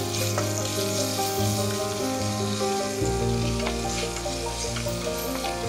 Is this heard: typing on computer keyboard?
no